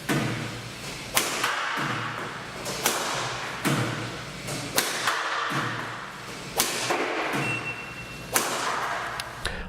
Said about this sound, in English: time for a smash test where we test to see how hard this racket can hit the shuttlecock in a smash